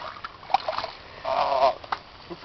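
A person splashes into a shallow creek, a brief burst of churning water mid-clip with smaller splashes and trickles around it, fairly close.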